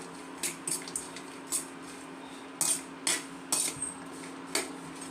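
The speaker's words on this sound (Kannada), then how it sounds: "ಈಗ ಸ್ವಲ್ಪ ಗೋಡಂಬಿ ಹಾಕಿದ್ದೀನಿ ಅದನ್ನು ಕೂಡ ಸ್ವಲ್ಪ ಫ್ರೈ ಮಾಡ್ಕೊಳ್ಳೋಣ" Cashews fry in a pan for a homemade immunity powder, with a spoon clinking sharply against the metal every half second or so over a faint steady hum.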